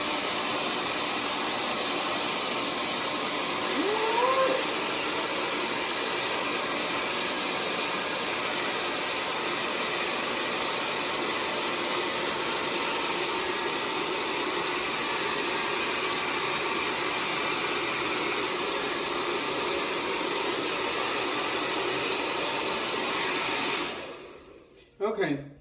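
A hair dryer drying washed, formerly matted hair runs as a steady, loud, continuous broadband whir for about 24 seconds, then cuts off near the end.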